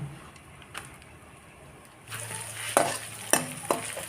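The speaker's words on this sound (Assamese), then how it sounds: "এইখিনি মই পুনৰ 5 মিনিট ল' ফ্লেমত ভাজি ল'ম।" Ginger and green chillies frying on a low flame in a pan, a faint steady sizzle with a few sharp utensil scrapes and taps as the mixture is stirred.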